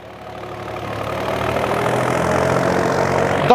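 A 1993 Mahindra 265 tractor with a ten-foot rotavator runs steadily at idle, its low rumble growing slightly louder and fuller over a few seconds.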